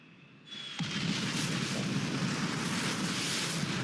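Quiet pause, then a sudden deep nuclear bomb blast in Civilization VI that swells into a long, rumbling roar of explosion debris, loud and sustained.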